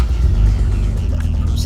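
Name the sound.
Nissan Z32 car engine starting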